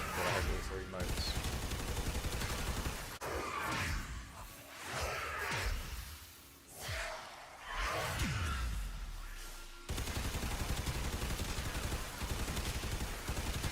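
Bursts of assault rifle fire in the video game Warframe, short rattling volleys interleaved with whooshes and gaps, fairly close and punchy, set against in-game effects.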